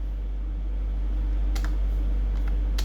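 A few quick computer keyboard keystrokes, sparse crisp clicks arriving near the end over a loud steady low hum.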